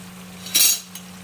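A utensil stirring food in a pan gives one brief metallic scrape-and-clink, then a faint tap, over a low steady hum.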